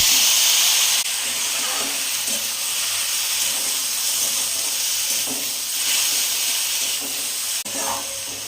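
Chopped pineapple sizzling loudly in a pan of fried poppy seeds for a Bengali chutney, a continuous close hiss with stirring scrapes and a brief dip near the end.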